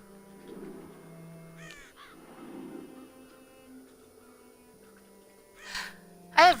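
Crows caw in a deserted village in the video game Child of Light: a few scattered harsh calls over a faint ambient hum, then a louder, closer caw at the end.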